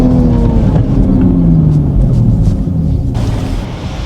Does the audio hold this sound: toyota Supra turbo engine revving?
yes